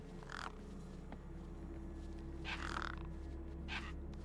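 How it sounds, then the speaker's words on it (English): Crows caw in a video-game street scene in Beyond a Steel Sky, where the birds gather over a corpse. Three separate bursts of harsh cawing come at a moderate distance over a steady low ambient hum. "No way I was going to get between those birds and their feast."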